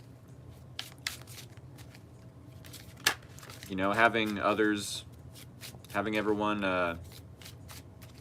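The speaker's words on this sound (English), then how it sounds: "the bridge shuffle" Tarot or oracle cards riffled in a bridge shuffle, with a few crisp papery snaps and soft riffling that fall under and between a person's close, quiet talking.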